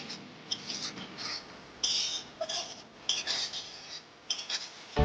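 Paneer masala gravy being stirred in a pan, with a spoon scraping and rubbing against the metal in short, irregular strokes, close and fairly quiet, with no talking.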